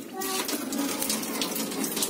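Hot water pours onto ice inside a faulty refrigerator that is leaking water, a close, steady splashing gush with faint talk behind it.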